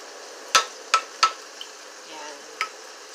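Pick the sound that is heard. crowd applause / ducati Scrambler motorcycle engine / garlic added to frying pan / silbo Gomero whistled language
garlic added to frying pan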